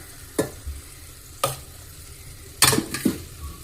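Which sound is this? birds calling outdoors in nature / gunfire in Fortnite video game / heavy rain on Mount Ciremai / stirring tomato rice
stirring tomato rice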